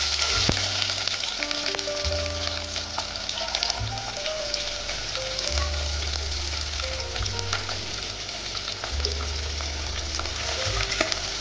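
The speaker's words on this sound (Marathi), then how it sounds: "छान जे आता फ्राय करतोय लालसर कांदा होईपर्यंत" Onions fry in a pan with a steady, crackling sizzle and occasional stirring scrapes, continuing evenly throughout under a low intermittent hum.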